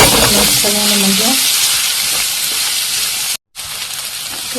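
Spices for drumstick dal frying in hot oil as they are stirred and mixed, giving a loud, constant sizzle with a few scraping stirs near the start and a brief dropout near the end.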